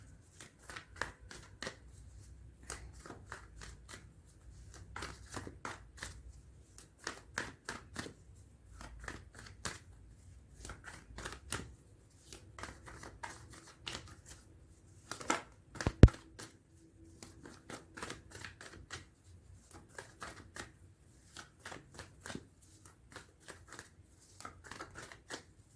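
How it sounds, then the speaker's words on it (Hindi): Tarot cards shuffled by hand in repeated quick riffling bursts, crisp and close but fairly quiet, with brief pauses between rounds and one sharper slap near the middle. "अच्छे से शफल कर लेते हैं।"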